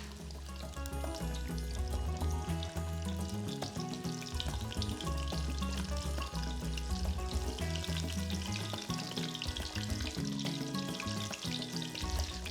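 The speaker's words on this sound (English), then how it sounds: "so the oil rolls back and forth over the cutlet" A breaded schnitzel cutlet fries in oil as the pan is rocked so the oil rolls over it, a dense continuous sizzle and crackle with bubbling pops, close and steady throughout.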